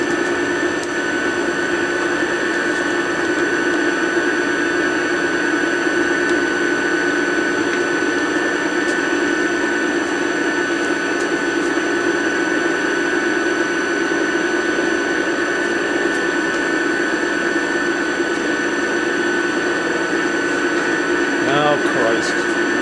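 A bus alternator spins at fairly low RPM on a test rig, giving a steady mechanical hum with a constant tonal whine. It holds level and unchanging throughout, close and fairly loud.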